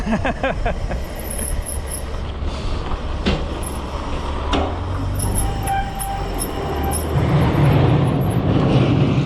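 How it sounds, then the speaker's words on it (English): Loud squealing and grinding brakes of a Lectric XP 3.0 e-bike over steady road and quiet motor noise, with brief sharp screeches rising near and close throughout. "You can hear how noisy it is. So yes, quiet motor, loud brakes."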